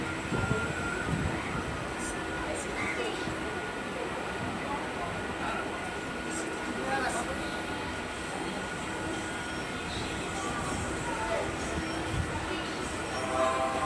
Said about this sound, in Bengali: আমাদের ট্রেন এসে পৌঁছালো দমদম ক্যান্টনমেন্ট